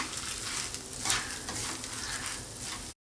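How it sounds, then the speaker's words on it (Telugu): Urad dal and chana dal dry-roasting in a pan, a soft continuous crackle and rustle of stirred lentils throughout, briefly dropping out near the end, with no talking. "ఈ పప్పులు సగం వేగాయి"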